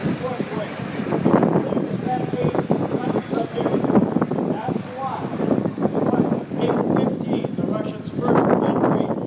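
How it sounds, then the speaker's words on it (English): Three MiG jet fighters fly past at an airshow, giving a steady broad roar of engine noise under continuous crowd talk. "And then those are three MiGs right there."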